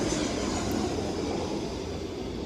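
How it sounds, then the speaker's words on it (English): An airplane passes overhead as a steady broadband engine roar with no breaks, fairly loud and even throughout, with no talk heard. "I hear an airplane."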